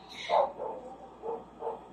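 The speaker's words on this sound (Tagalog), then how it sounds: "Ayan naman yung aso namin, pasensya na." A household dog gives a few soft, muffled barks or yips in a short series, somewhat distant, over a quiet indoor background.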